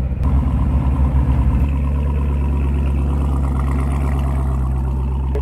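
A 2008 Corvette Z06 engine roars close and loud: a rough, surging start that settles after a second and a half into a steady, deep rumbling run, with no voices.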